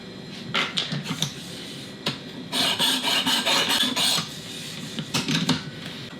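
Glock knife blade rasping against a coarse stone on a Worksharp Precision Adjust Elite sharpener, in a run of short scraping strokes, some quick and separate, others in a dense close burst.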